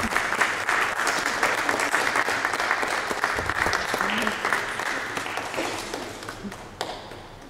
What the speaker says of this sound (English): Let's welcome him into the Christian community with a nice round of applause.